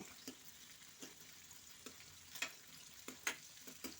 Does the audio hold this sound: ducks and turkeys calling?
no